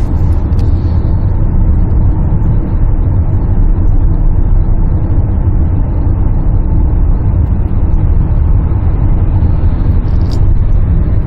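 A 2019 Hyundai Santa Fe TM accelerates on the road, heard from inside as a loud, steady engine and road roar that stays constant throughout with no clear change in pitch.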